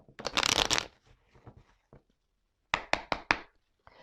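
Oracle cards shuffled by hand, a close crisp riffle followed by soft slides and taps, then a second burst of quick shuffling flicks, with no talking.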